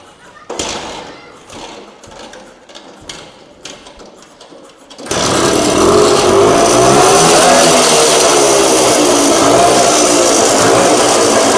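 A 1978 Rajdoot GTS 175 motorcycle with its original 175 cc engine fires up on the first kick, then idles loudly and steadily close by after a few scattered clunks and knocks.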